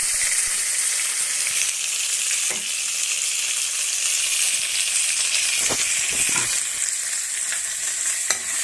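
Chana dal and salt sauté in a pan for chutney, giving a steady, loud sizzle and hiss with occasional stirring scrapes and no talk.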